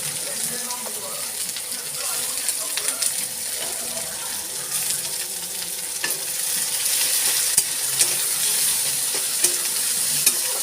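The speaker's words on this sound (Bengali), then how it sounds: "এই পেঁয়াজগুলো দিয়ে ভাজা করব" Onions frying in oil in a kadai, with slit green chillies added: a continuous broadband sizzle with scattered clicks and stirring clinks, slightly louder toward the end.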